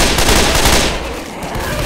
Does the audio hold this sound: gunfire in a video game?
yes